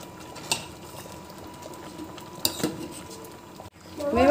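A spoon stirs dry fruits and makhana into simmering vermicelli kheer in a metal pot, giving a few sharp clinks against the rim over a soft, steady bubbling background, with no talking.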